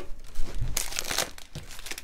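Crinkle paper filler rustles and crackles as it is lifted out of a subscription box of gouache paints, with a loud burst of crumpling in the middle and softer handling sounds before and after.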